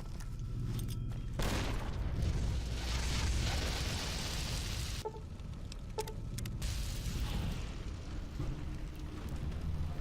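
Grenade blast in Fallout: New Vegas, a broad rumbling burst that fills the first seconds, followed by crackling and a few smaller pops and bangs fading out, with no talk.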